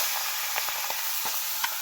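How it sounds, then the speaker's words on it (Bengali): Meat frying in a pan on a small wood-fired toy-kitchen stove fed with firewood gathered from the forest: a steady close sizzle with a few light clicks and taps, and no voices. "এই যে মাংস এখন ভাজবে।"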